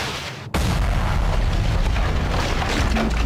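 Lightning striking the ground and igniting gas below, making a sudden deafening blast that gives way to a sustained roaring, rumbling wall of noise. Loud and close, with no voices.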